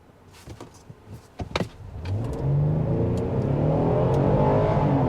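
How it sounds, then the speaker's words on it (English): A 2023 Kia Telluride SX-Prestige X-Pro SUV floored from a standstill without brake torquing, a few clicks and knocks giving way to a loud, rising engine roar that climbs steadily through the rev range, heard from inside the cabin. "We're not going to brake torque it this time. We're just going to floor it."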